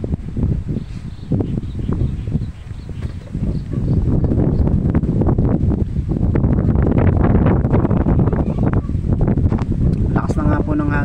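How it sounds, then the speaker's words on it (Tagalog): While fishing, strong wind roars and buffets the microphone in a constant, heavy rush that grows louder after the first few seconds. "Lakas na nga po ng hangin dyan eh."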